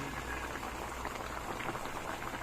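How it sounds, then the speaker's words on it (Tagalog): Adobong paksiw of galunggong fish boiling in a pot, a steady dense bubbling and crackling hiss that holds close and constant throughout. "Ayan na, kulo, kulo na siya guys."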